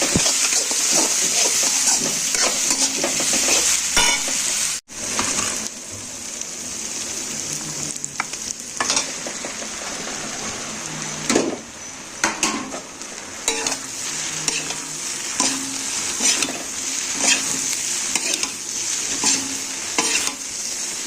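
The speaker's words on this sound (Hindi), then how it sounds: "सारी सब्जी डालकर अच्छे से पकाएंगे।" Vegetables frying in a pan, a steady sizzle broken by repeated scraping and stirring strokes, with a short dropout partway through; close and fairly loud, with no talking.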